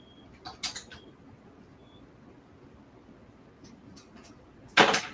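A pet bird calls in a few short, sharp chirps, close and fairly loud, in two clusters separated by a quiet gap, with a faint whistle-like tone between them.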